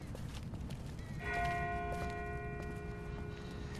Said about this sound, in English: That's not the same bell as before. This one's further off.